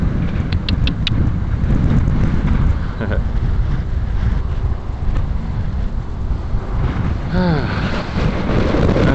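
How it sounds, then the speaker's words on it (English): Strong wind roars and buffets the microphone in continuous heavy gusts near a bison enclosure fence, with a faint vehicle sound passing late in the clip. "And it's really windy."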